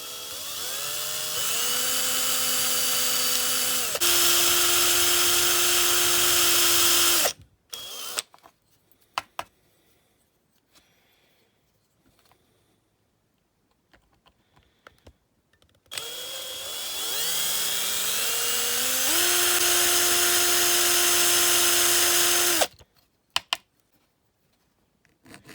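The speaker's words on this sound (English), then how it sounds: "we're just drilling the rivet holes in the Airbus now" A small power drill whines loudly in two long bursts, its pitch shifting as it drills rivet holes in a die-cast Matchbox Airbus A300B model, separated by quiet handling noises.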